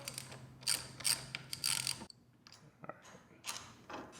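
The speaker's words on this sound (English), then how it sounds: "Get the bolt out, pin slash pin out." A bolt and pin being removed from the brake lever of a 2019 Yamaha R3 motorcycle: close, quiet metallic ratcheting clicks and scrapes in short bursts, with pauses between.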